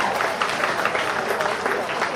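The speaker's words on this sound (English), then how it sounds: "Clap." An audience at a Malaysian dinner event claps, a dense continuous patter of many hands at moderate loudness that holds steady throughout.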